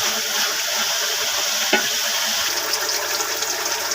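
Mustard greens frying in an uncovered pan as the water cooks off, a steady close sizzling hiss with one sharp tap of a utensil and a faint low hum joining partway through.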